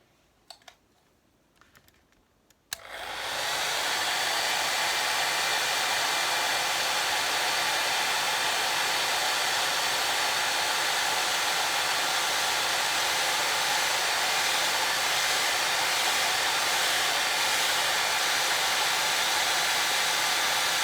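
After a few faint knocks, a hair dryer switches on and blows steadily at a watercolour painting of an eye, a loud, constant close whoosh that lasts to the end, with no talk.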